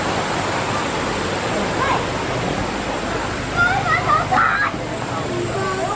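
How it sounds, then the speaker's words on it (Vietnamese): Hieu waterfall in the low-water season, its shallow rock tiers forming more of a rapids, pours out a steady broadband rush, with voices talking over it partway through. "Các tầng thác của thác Hiêu thì không quá cao, nó giống một cái gành nước nhiều hơn"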